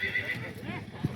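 A horse at a horse market gives a short neigh, close and brief, mixed with nearby talk and a low snort at the end.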